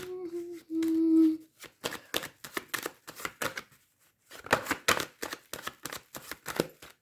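Tarot cards being shuffled and drawn for a reading: a run of crisp, close papery flicks and slaps in quick irregular bursts, after a short low hum, with a brief pause midway.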